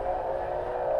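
A BMW E36 in the Assetto Corsa racing game, driven at Circuit of the Americas, gives a steady, moderately loud engine drone as it downshifts, with no talk over it.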